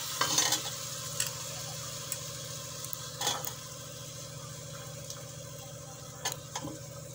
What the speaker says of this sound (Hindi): चलाते भी रहिए साथ में।